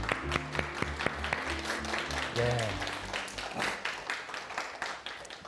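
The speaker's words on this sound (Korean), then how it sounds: "박수 한번 쳐주세요." Audience applause at a lecture on attraction as two participants come forward, a steady patter of clapping running under a presenter's voice and music-like tones, continuing at moderate loudness throughout.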